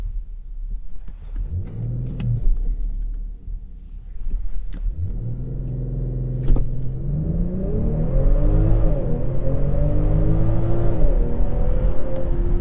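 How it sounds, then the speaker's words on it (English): 2020 BMW X5 doing an emergency brake stop and a 0 to 60 launch: an engine revs briefly, drops to a low idle rumble, then surges into a loud sustained acceleration with rising pitch and gear shifts. "60 to 0 emergency brake stop and 0 to 60 launch"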